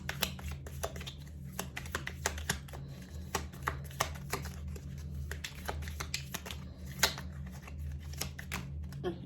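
Tarot cards being shuffled and drawn during a reading: a steady run of soft, close riffling and sharp card snaps and flicks, fairly quiet, over a low steady background hum.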